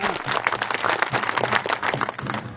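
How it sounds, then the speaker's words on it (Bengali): Audience applause for Farid at a JASAS workers' conference fills the room as steady, dense clapping from a crowd, loud and continuous without a break. "আমি আশা করি ফরিদ কাকার জন্য সবাই একটা করতালি দিয়ে হাততালি দিবেন।"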